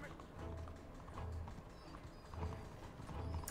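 A horse in the video game Red Dead Redemption 2 moving at a quick pace, with rhythmic hoofbeats in repeated clusters, quiet and low in level, while someone talks over it.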